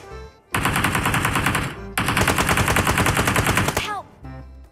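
Rapid automatic gunfire in a shooting video game, two long loud bursts of fast rattling shots separated by a brief pause, followed by a short trailing sound; no talking.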